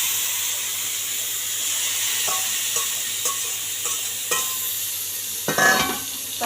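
Chopped tomatoes hitting hot oil with crackling mustard seeds and asafoetida, a steady loud hissing sizzle with scattered pops that flares into a sharper burst of spitting near the end.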